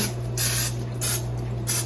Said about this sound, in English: use some cooking spray and spray my muffin tin